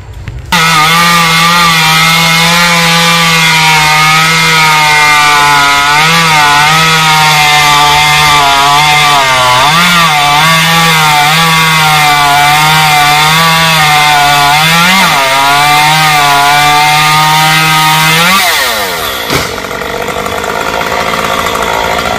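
A chainsaw cuts Xà Cừ tree branches hanging over power lines, its loud, close engine whining steadily with pitch rising and dipping under load for about eighteen seconds before cutting off, followed by a brief crack.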